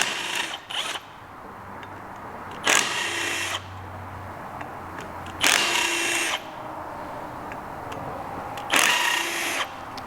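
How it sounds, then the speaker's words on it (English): Electric impact wrench hammering on the rear wheel nut of a Vespa Primavera scooter, three short loud rattling bursts spaced a few seconds apart over a steady low background hum. "Kind of going to cheat and use a electric impact."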